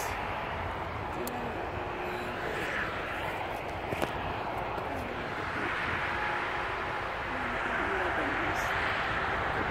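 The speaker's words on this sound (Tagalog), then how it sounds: "Yan, ang ingay-ingay. Kasi highway yan dito." Constant roar of heavy highway traffic in Germany, a dense broadband rumble with passing engines swelling and fading, and a voice talking faintly within the noise.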